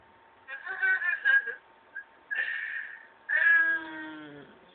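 A pet cat gives three distinct meows close by, the last one drawn out and falling, with short gaps of quiet between calls and no talk.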